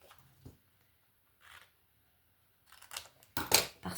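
Scissors snip paper while a reversible gift bag is being made, a few faint, sparse cuts early on followed by louder, crisp snips and paper rustling close to the microphone.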